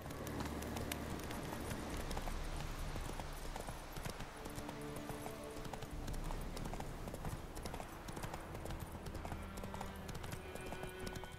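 Rapid horse hoofbeats clatter in a steady galloping rhythm, close and continuous, over a busy background of music and effects from the video game The Witcher 3.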